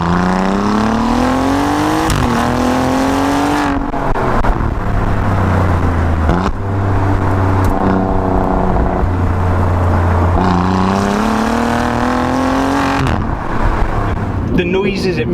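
Alfa Romeo Giulia Quadrifoglio with its 2.9 V6, revving loudly with rising and falling engine pitch through the gears and exhaust growl, close and dominant, with brief gaps between pulls.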